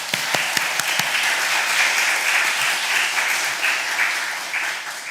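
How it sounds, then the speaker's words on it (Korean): A church congregation applauding during a pastor's installation service: a sustained, fairly close round of clapping with a few sharp claps at the start, running steadily and tapering slightly at the end, no voices. "하나님께 영광의 박수 한번 올려주십시오."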